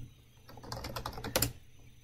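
Quick keystrokes on a computer keyboard as a search is typed into a Mattermost chat app, a close, fairly loud burst of clicks lasting about a second, with no talking.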